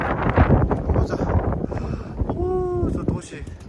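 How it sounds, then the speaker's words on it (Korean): Strong wind roars and buffets the microphone on a mountain peak of Gajisan, South Korea, at night, with people talking over it and a brief whistling tone partway through. "바람 소리 장난 아니고."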